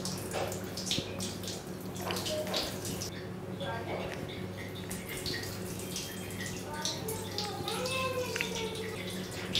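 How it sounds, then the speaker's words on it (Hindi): Warm water poured steadily over a thigh, knee and down to the heel as a home hot fomentation for sciatica pain, a continuous splashing trickle heard close up throughout. "इस पानी को हमें इस तरह से डालना है कि पूरी थाई, घुटने और नीचे एड़ी तक ये पानी अच्छे से चला जाए।"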